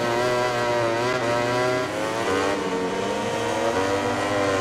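Ducati GP20 MotoGP racing motorcycle in a video game, its engine holding a loud, steady high-revving whine with rising and falling pitch shifts throughout, close and continuous with no talk.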